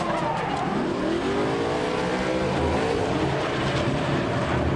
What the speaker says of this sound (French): Axel François, maintenant, qui s'élance concentré